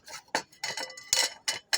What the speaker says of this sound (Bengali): এবার আমরা আমগুলো গ্রেট করে নিব